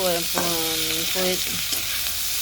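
Flattened rice (poha) being stirred in a pan with cashews, raisins, onion and green chillies, a steady scraping stir over soft continuous sizzling frying, with no talk.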